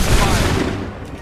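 A musket volley in Assassin's Creed 3 erupts as a loud, dense burst of massed gunfire right from the start, its rumbling report slowly decaying over about a second.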